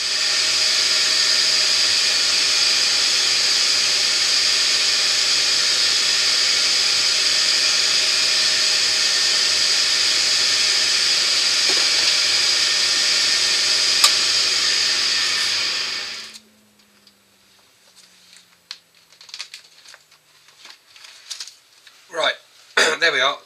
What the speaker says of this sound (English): I will sand that down to about 600